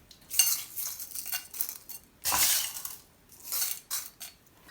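Crushed ice being spooned over a Lahori rabri falooda, giving bursts of crisp clinking and rattling in several separate pours, close and fairly loud, with no talking.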